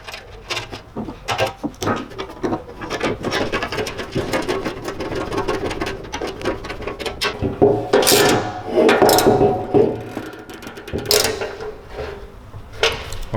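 Nuts and bolts being tightened while a diffuser is fitted to a BMW E36, giving close, irregular metallic ratcheting clicks and clanks of tools against metal and plastic, with bursts of scraping and rattling through the clip.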